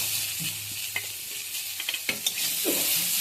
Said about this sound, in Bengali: এবার তেলের সঙ্গে একটু ভেজে নিচ্ছি।